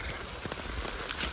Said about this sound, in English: it's really been raining like this